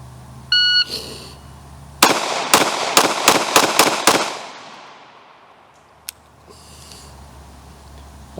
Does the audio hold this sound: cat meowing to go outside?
no